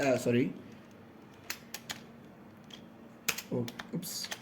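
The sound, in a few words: typing on a computer keyboard, HTML coding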